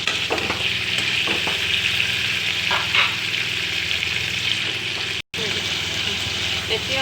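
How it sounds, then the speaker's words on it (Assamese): Loud, steady frying sizzle of ginger, onion, cumin, garlic paste and chili for an Assamese fish curry, with scraping stirring strokes and a brief dropout near the end. "এতিয়া আদা নহৰুটো এনেকৈ ফ্ৰাইত যদি হ'লে বেয়া নহয়"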